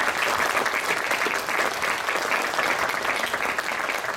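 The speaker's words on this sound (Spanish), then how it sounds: "Entonces, démosles un fuerte aplauso." Loud, sustained audience applause fills a hall at an education-for-peace event in Ocoyoacán, a dense steady wash of many hands clapping with no talk over it.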